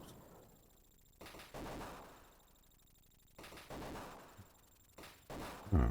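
Short bursts of gunfire in a retro Sega Mega Drive game, fired at an enemy installation, several separate volleys with quieter gaps between them, heard alone without talk.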